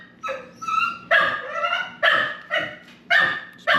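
A puppy barks again and again in short, sharp yips, loud and close, with uneven gaps between them and no one talking.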